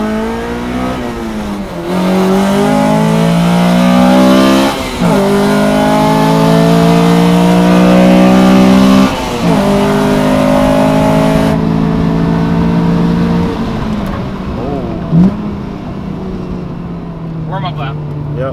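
A Honda Civic Si FD2 race car on a warm-up lap at a track day, heard from inside, its engine repeatedly revving up through the gears with rising pitch and shift breaks, loud and close, with people talking over it.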